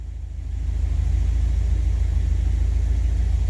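An old car, Ruby, idles high during a tune-up, its engine holding a steady, close, low rumble that swells slightly in the first half second and then runs evenly without talk.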